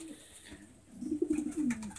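Racing pigeons coo in a breeding loft, soft low throaty warbles rising near the end, close and fairly faint.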